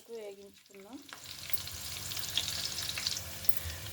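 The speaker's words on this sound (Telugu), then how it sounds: "ఉల్లిపాయ బ్రౌన్ కలర్ వచ్చే వరకు వేగించుకుందాం." Chopped onions with green chilies fry in a pan for chicken biryani, browning in hot oil; a steady, close sizzle with stirring runs throughout after a brief tonal sound at the start.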